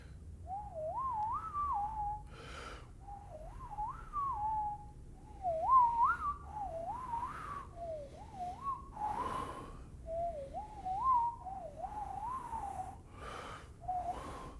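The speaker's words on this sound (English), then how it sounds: "what I want to be doing is something that's more like whistling" A person whistles a string of short, gliding phrases that rise and fall, about eight in a row with audible breaths between them, close and clear with no talking.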